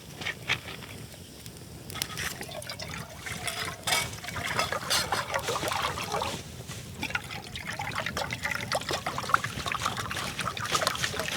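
Alkaline water pours steadily into several containers, a continuous close splashing trickle that runs for the whole stretch with small bubbling variations and no talking.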